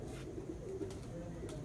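Racing pigeons coo in low, soft repeated calls at a moderate distance, with faint voices murmuring in the background.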